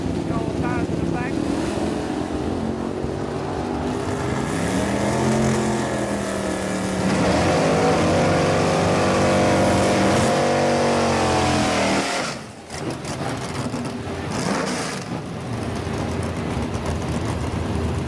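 A 1974 Chevy Nova with a 406 engine drives past loud and close, its engine droning and rising in pitch as it accelerates. It drops away briefly, then picks up again with a steady roar. Wind and handling noise sit underneath.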